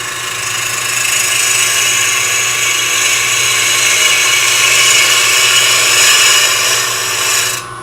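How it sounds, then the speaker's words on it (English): Bowl gouge cutting wood spinning on a lathe, making a quick truing pass across an irregular blank for a miniature box top, with a steady, loud, even scraping hiss and a low motor hum for several seconds without speech. "Just going to use a standard bowl gouge."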